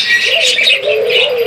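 Several caged budgerigars, a pied male and an albino, chirp and warble continuously close by, a busy overlapping stream of bright calls with no pauses.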